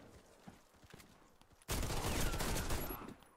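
A quiet stretch with a few faint clicks, then a sudden loud burst of rapid revolver gunfire in a video game, Warface, that continues steadily to the end.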